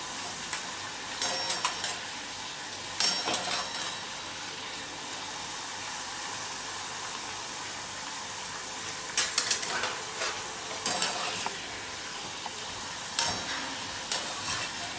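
Banana chips fry in hot oil with a soft, steady sizzle, interrupted now and then by sharp bursts of utensil scraping and clatter as they are stirred.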